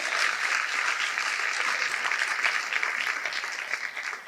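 Audience applause at a fundraising awards gala, a steady, dense wash of many hands clapping loudly throughout, easing slightly at the end.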